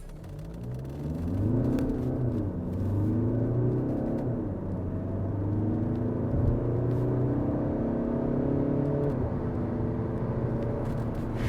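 A Volkswagen Passat B8 engine rises steadily through the gears during a 0 to 100 km/h run, with rising harmonic whine and brief dips at each shift, sustained and close, recorded from inside the cabin.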